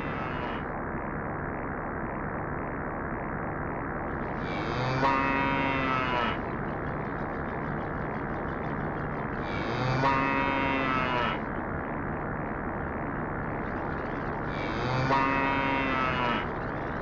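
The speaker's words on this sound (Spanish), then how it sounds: "podemos observar cómo una vaca es succionada por un plato volador" A cow moos in three long, drawn-out calls spaced about five seconds apart, each rising over a steady background hum with no talking.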